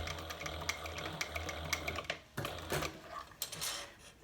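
Sewing machine stitching back and forth across the end of a handbag shoulder strap, a steady close mechanical whir in short bursts with brief pauses between runs.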